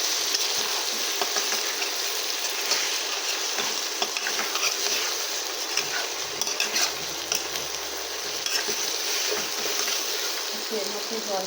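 Ground cumin, coriander and chili powder sizzle as they are sautéed and stirred for a fish curry with drumsticks in a pan. A continuous frying hiss runs throughout, broken by occasional clinks and scrapes of the spoon.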